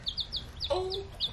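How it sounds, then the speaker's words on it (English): Several high, thin chirps repeat quickly, with a lower warbling call in the middle; baby chicks peeping close by, fairly soft. "Yeah, the chickens. Baby chickens."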